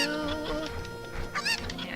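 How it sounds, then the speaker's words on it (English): A chicken in the video game Legend of Zelda: Ocarina of Time gives brief, high squawking clucks over steady background game sound. "A chicken! He says thank you."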